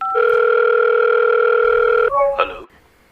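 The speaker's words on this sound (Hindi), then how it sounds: "अभी उन्हें फोन लगाती हूँ।" A steady telephone dial tone sounds for about two seconds while a call is being placed, then cuts off with a short electronic blip and a brief click before near silence.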